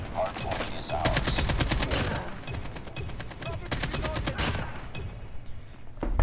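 Rapid automatic AK-47 fire from Call of Duty Mobile multiplayer, loud close bursts of repeated shots with short pauses, over busy game sound and occasional voice.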